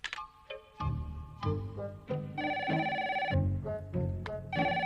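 A telephone rings for an incoming call in a cartoon scene: repeated bright electronic ring tones in a steady rhythm, clear and close, with no talking.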